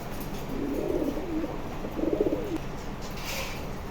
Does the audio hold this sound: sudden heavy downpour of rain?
no